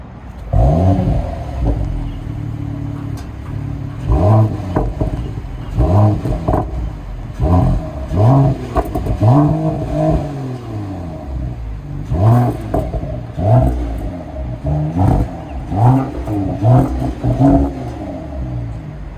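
Mercedes-AMG GT53 engine revved repeatedly through its tailpipes, a series of loud, close throttle blips rising and falling in quick succession, alone without talk.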